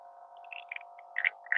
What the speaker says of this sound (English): You can hear the vibratory pump working in the background.